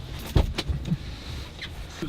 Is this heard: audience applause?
no